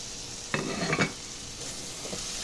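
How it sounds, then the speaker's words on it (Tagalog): Onion dropped into a hot pan with tomato already cooking: a steady sizzle throughout, with a brief burst of stirring and clatter near the start, close by and without speech. "Lalagay na ang sibuyas."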